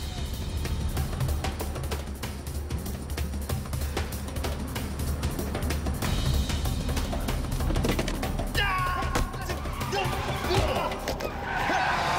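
Car driving at speed with its tires skidding and squealing, a constant engine roar with sharp screeching bursts toward the end, close and loud, with a voice faintly underneath.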